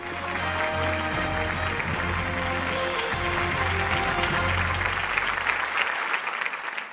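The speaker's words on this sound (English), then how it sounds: "A round of applause, please." Audience applause at the Dun & Bradstreet–Everest Industries infrastructure awards ceremony in India, a full, steady wash of many hands clapping with a faint musical bed beneath, holding loud for about six seconds before dropping off at the end.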